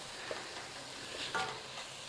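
Tomatoes and chicken for a jalfrezi masala cook in a pan with a soft, steady sizzle, broken by a couple of light stirring scrapes, close and fairly quiet, with no voices.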